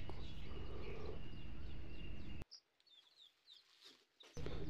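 Young native chicken chicks peep in thin, high chirps, first over a loud, rough background noise, then more clearly during a quieter stretch before the noise returns.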